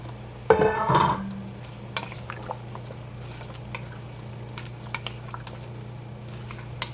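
Vegetables and leaves are dropped into a pot of pork soup with a brief, close burst of clattering and splashing, followed by quieter scattered stirring and light knocks.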